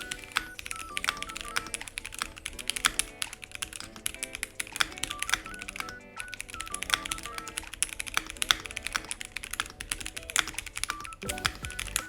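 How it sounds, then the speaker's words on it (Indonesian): Rapid, steady clicking of keystrokes on a Daxa M82X mechanical keyboard fitted with Jwick Ultimate Black switches, close and fairly quiet, with an even typing rhythm and a short pause near the middle. "hasil suara dari keyboard ini yang gue pakaikan dengan switch Jwick Ultimate Black"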